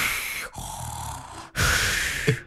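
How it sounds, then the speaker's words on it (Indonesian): A cartoon dolphin character snores loudly, two long raspy, breathy snores separated by a brief pause, close and prominent with no talk over them. "Wah, itu sepertinya si lumba-lumba lagi ngorok."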